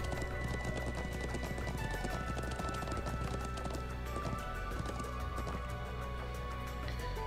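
Horse hooves clip-clopping in The Legend of Heroes: Trails of Cold Steel 2 video game, a steady trotting rhythm throughout over a dense bed of game music and effects, with no talk.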